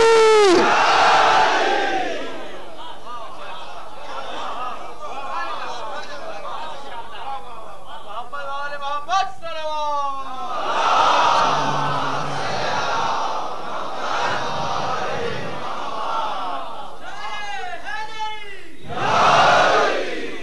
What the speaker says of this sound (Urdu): دونوں ہاتھ بلند کر کے پوری طاقت سے نعرے حیدری.